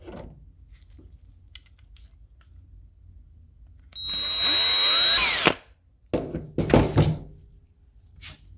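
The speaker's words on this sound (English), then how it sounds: "we're going to drill the bottom out here" A power drill boring into the bottom of a wooden fishing lure whirs loudly in a single burst of about a second and a half, then stops, followed by a few clattering knocks.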